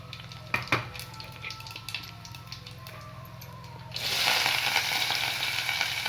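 Mustard seeds and cumin dropped into hot oil in a pan, quiet at first with a few small pops and clinks, then a sudden loud, continuous sizzle that stays strong to the end.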